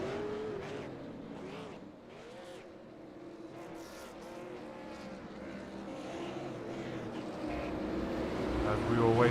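Race car engines roar as the field takes the green flag in an iRacing Outlaw Super Series race, a dense layer of sustained engine drones with pitch sweeps that swell louder toward the end, under a voice.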